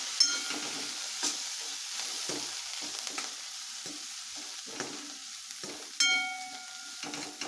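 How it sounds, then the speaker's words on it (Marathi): Finely chopped coriander sizzles in hot oil in a pan for a bottle gourd sabji, a steady crackling fry with soft stirring scrapes and occasional sharper pops, close and alone. "बारीक केलेली कोथिंबीर घालायची कोथिंबीर तेलामध्ये छान परतून घ्यायची आहे"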